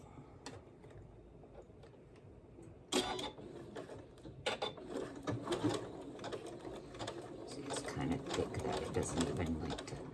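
A home sewing machine stitching fabric for a McCall M8256 pattern, starting with a few clicks and then settling into a fast, continuous mechanical rattle close up, with a person talking over it.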